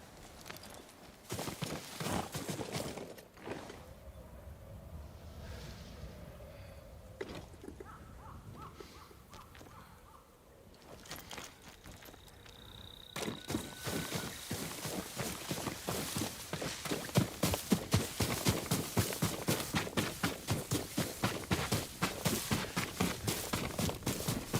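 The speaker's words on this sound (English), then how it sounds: "Yuriko's horse. She can't be far." Horse hooves clip-clopping in the Ghost of Tsushima video game, starting as scattered steps and building into a loud, steady rhythmic gallop of hoofbeats, with a brief bird call midway.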